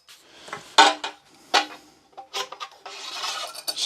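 A budget track saw rail square slides onto a Festool-compatible track saw rail, giving several short, close scraping and rubbing bursts separated by brief quiet gaps.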